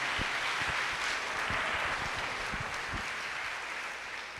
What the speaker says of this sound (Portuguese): Gente, pode aplaudir, pode aplaudir.